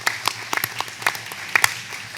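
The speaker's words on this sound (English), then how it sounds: "let's give her a round of applause" Scattered, sparse clapping from a small audience at a government committee meeting on airport infrastructure, a handful of separate, sharp claps spread over about two seconds.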